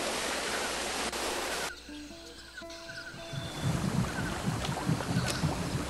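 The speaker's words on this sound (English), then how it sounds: "Woo! Waterfall! Let's go on it!" A waterfall in Monkey Island 2: LeChuck's Revenge rushes as steady broadband noise, dipping briefly while soft game tones play, then swelling back full and close.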